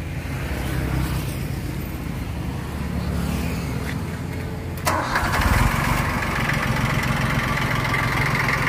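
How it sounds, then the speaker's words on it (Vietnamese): A Yanmar YM1610 tractor with a 3T75 diesel engine is heard up close, first as a quieter mechanical rumble, then firing up and settling into a loud, steady idle. "Máy nổ là im rung."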